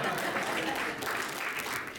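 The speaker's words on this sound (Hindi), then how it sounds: "जरा जोर से तो ताली हो जाए" Listeners at a Hindi poetry gathering applaud in a continuous, even wash of clapping for two seconds, moderately loud and unbroken by speech.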